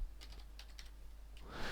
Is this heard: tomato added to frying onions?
no